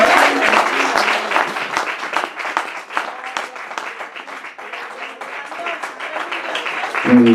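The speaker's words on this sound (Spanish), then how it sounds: "Ten un aplauso, Padre, Hijo y Espíritu Santo" Church congregation applauding in praise, a broad continuous clapping wash that holds steady for several seconds before tapering, with a voice speaking briefly near the end.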